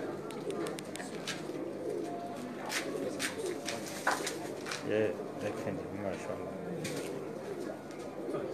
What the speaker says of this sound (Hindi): ये सर फिरोजपुरी कबूतर है